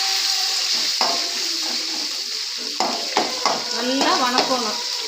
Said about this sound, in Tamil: வணக்கிறப்பவே இந்த இஞ்சியும் பூண்டும் போட்டுருவோம்.